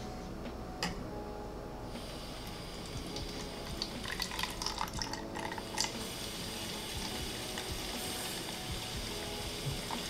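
Water flowing through a 3D printed bell siphon in a DIY aquaponics system, a steady close gurgling wash with a faint hum underneath and a few brief ticks and drips.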